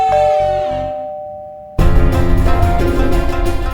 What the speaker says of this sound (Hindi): इतनी रात को किसने घंटी बजाई?